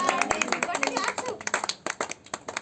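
A family claps hands at a birthday celebration, a quick run of sharp, close claps in an uneven rhythm with voices talking over them.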